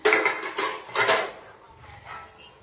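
Dishes are washed with water, with clattering of pots and utensils and splashing, loudest at the start and fading off.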